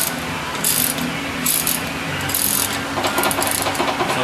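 Ring and pinion gears in a rear axle differential click and clatter with backlash as the assembly is turned by hand, a few close, loud bursts of rapid ticking with no talking.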